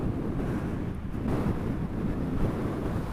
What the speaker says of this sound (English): Okay, it's quite windy now.